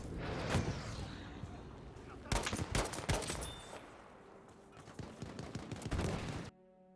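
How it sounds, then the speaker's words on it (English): Gewehr 43 semi-automatic rifle shots in Battlefield 5 crack out in several irregular bursts, loud and close, with other gunfire and game noise around them before the sound cuts off abruptly near the end. "The Gewehr 43 is another semi-automatic rifle that uses 5-round stripper clips"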